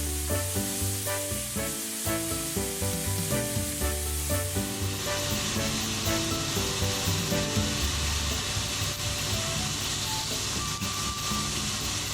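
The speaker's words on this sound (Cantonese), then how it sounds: "一邊煎呢，就一邊要耐不耐就反下佢啦，等佢呢每一面都係煎到佢均勻嘅" Beef tenderloin pieces pan-searing for Steak Diane give off a steady, broad sizzle, turned now and then, heard throughout beneath tuneful background music.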